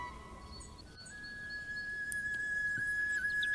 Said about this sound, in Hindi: ताऊ ने सीटी बजा दी। सीटी की आवाज़ के साथ ही सारे हंस उड़ गए।